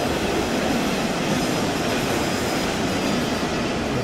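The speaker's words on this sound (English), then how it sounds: "And there's our train." A train in the game Train Sim World 3 on the Dresden local route rumbles past steadily at close range, a dense continuous roar of wheels on track with faint metallic squeal, no voices.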